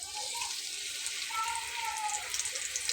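Hilsa fish laid into hot soybean oil in a pan gives a steady, hissing sizzle that runs throughout, close and fairly even, with faint kitchen noise beneath.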